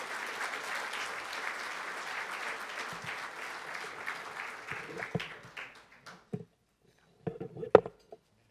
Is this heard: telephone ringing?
no